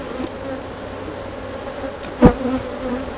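Honeybees hum steadily around a hive during an oxalic acid treatment, a continuous low drone with one brief louder bump partway through as a bee passes close.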